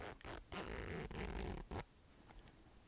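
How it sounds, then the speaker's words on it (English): A zipper on a bag is drawn open in a few quick, close rasping pulls with short pauses between them, followed by quieter faint handling, with no talking. "I will now unzip it for you"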